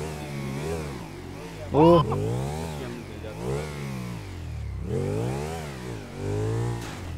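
A motorbike engine in GTA 5 revs up and down in rising, falling sweeps, fairly close and steady, with excited talk over the top and a brief sharp burst near the second mark.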